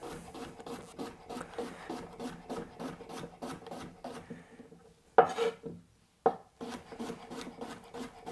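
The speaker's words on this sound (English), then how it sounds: "And then for my salad, I want some cucumber. So just cut that into slices." A knife slices a cucumber for a salad. Quiet, even cuts tap against a board in a steady rhythm, with a brief louder clatter partway through.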